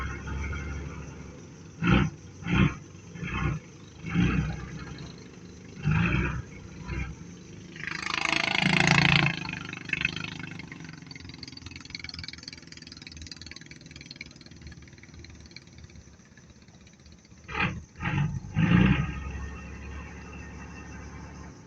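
A large service boat's engine roars from mid-distance on a hot day, rising into a loud rumbling surge partway through, with irregular thumping knocks before and after and a low steady drone underneath.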